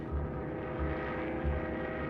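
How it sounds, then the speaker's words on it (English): Propeller-driven C-47 supply planes drone overhead in a clear sky over Bastogne in the Battle of the Bulge, producing a steady, loud, throbbing engine hum with a slow pulsing beat and no talk. "A crystal clear sky brings hundreds of supply planes."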